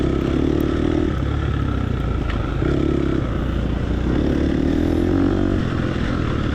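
A dirt bike engine races around a tight motocross track, a continuous loud buzzing drone with shifting revs and gear changes, close and alone without talking.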